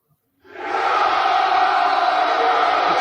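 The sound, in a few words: played crowd cheering sound effect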